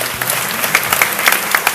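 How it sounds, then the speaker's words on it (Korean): Congregation applauding in thanks at a Korean church all-night worship service, a steady wash of many hands clapping close by, brief and dense with faint murmurs underneath. "우리 감사의 박수 드립니다."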